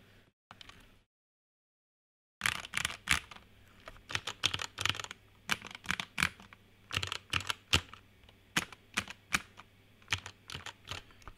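Rapid keystrokes on a modded Vortex VX5 mechanical keyboard, lubed and foamed, clacking in close, uneven bursts after a brief silence, with no voices.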